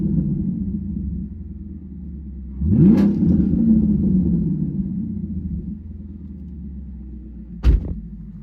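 A Camaro engine idles with a steady low rumble, then gives a sharp rev that rises and holds before settling, followed by a second quick blip near the end, close and loud with no talk.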